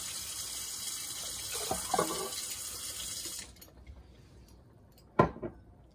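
Water streams steadily from a tap into a stand mixer bowl for a few seconds, then stops, followed by a couple of sharp clinks and knocks nearby.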